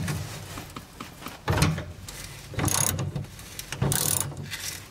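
A ratchet with a 6-point socket working back and forth on a stubborn bolt of an old 1956 Chevy: close metallic ratcheting bursts alternate with straining pauses over a noisy workshop background.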